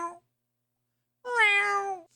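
A house cat meows loudly and insistently for attention, one short cut-off call followed by a long drawn-out meow close to the microphone, with silence between.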